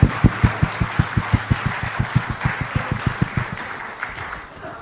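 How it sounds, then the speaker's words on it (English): Applause at the Manthan Award 2012 gala as the jury is welcomed on stage: quick, evenly spaced claps that start loud and gradually fade over a few seconds. "A round of applause, please."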